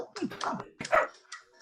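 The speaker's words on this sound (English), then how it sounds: "Sorry for my dog." During a town hall meeting, a dog gives a few short, yelping barks and whimpers close by, in two quick clusters.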